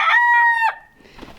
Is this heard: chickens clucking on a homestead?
yes